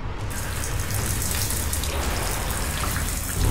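Water gushes steadily from a tap that will not shut off, a dense, even hiss with no break, heard up close and alone.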